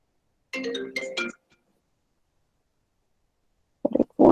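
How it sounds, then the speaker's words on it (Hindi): A phone ringtone for an incoming call plays two short melodic bursts, then cuts off into silence before a couple of brief clicks and knocks at the end. "फोन आ गया, सो सॉरी, इमरजेंसी से आ रहा है, 1 मिनट।"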